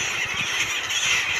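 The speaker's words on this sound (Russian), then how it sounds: "А вот маленькие чаечки, они очень горластые." Small gulls call loudly by the water, a steady shrill squealing chorus over a constant airy background wash, with no pauses across the stretch.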